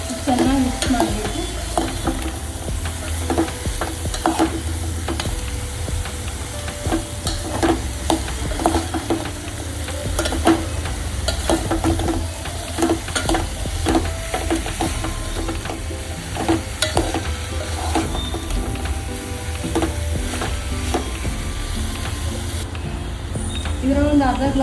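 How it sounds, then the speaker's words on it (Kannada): Ridge gourd stirred and fried in a pan, with a steady sizzle under frequent scraping strokes of a spoon against the pan, continuing for a long stretch while a person talks at times. "ಹೀರೆಕಾಯಿನ ಹಾಕ್ಕೊಳ್ತೀನಿ. ಚೆನ್ನಾಗಿ ಮಿಕ್ಸ್ ಮಾಡಬೇಕು."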